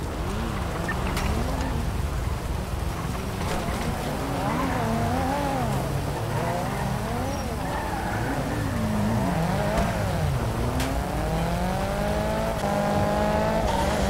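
A Nissan GT-R driven in GTA V, its engine revving continuously with tires squealing and skidding through turns, loud and sustained over a busy game soundscape.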